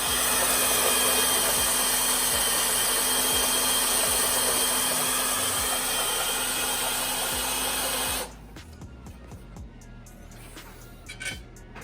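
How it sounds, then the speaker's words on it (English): A power drill drilling out holes in a metal oil pan skid plate for a Ford Bronco whines steadily at high pitch for several seconds close by, then stops, leaving quiet room noise with faint clicks. "so I just need to drill these off"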